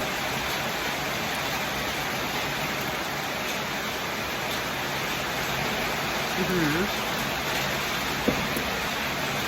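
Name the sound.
rain falling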